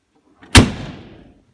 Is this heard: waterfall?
no